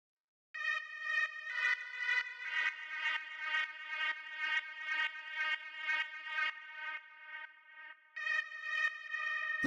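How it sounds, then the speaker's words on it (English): A bright, buzzy synth lead from a techno track plays a short repeating pattern of pulsing sustained notes, clean and alone, stopping briefly before resuming near the end. "the last sound that we have here is this lead, which sounds like this"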